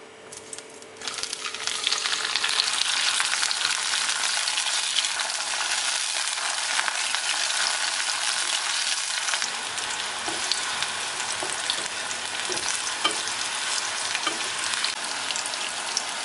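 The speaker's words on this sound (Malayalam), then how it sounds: "നമുക്ക് ആദ്യം വഴുതനങ്ങ ഒന്ന് വറുത്തെടുക്കാം." Aubergine frying in hot coconut oil in a kadai, a loud continuous sizzle that bursts up as the pieces go in after a brief quieter moment, with occasional crackles and stirring clicks.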